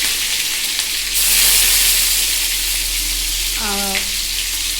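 Chili, ginger and garlic paste frying in hot oil in a wok, a loud close sizzle that swells for a moment, with a short tonal squeak or whistle near the end.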